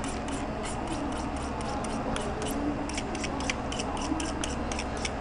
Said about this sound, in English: This is a portable knife sharpener.